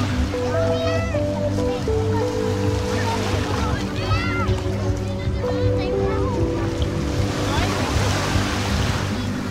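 Sea waves wash onto a beach at Bagac, Bataan in summer, a steady broadband surge running the whole time beneath continuous children's and adults' chatter and crowd noise.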